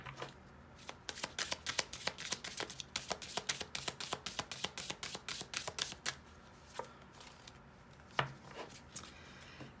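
A deck of angel cards being shuffled in a rapid run of crisp riffling flutters, then a few looser riffles and a sharper slap near the end, close and clear with no talking.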